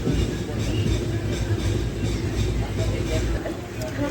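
A train rolls into Kalaburagi Junction with a steady low rumble of wheels and carriages, constant and fairly loud throughout, with faint background voices around the station.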